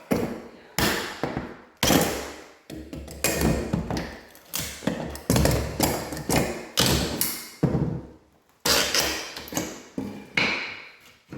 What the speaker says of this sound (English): That's how you use this Goldblatt baseboard removal tool to remove baseboards.